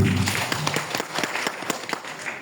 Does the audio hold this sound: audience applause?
yes